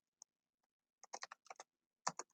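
Quiet, close typing on a computer keyboard: a scattered run of crisp key clicks, with a short burst of several quick presses, a pause, then a few more taps.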